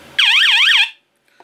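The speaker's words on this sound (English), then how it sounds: "Now, the horn is very loud, so I'm just going to give you a blast on that." A loud horn set to a siren tone gives a single warbling blast of under a second, close and piercing, then cuts off into near silence.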